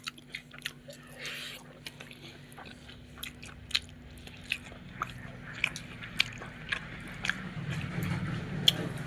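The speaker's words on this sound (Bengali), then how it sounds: "খাওয়া চলছে।" Someone eating rice with pabda fish, with close, quiet chewing and soft crunchy bites repeating irregularly over faint background hum.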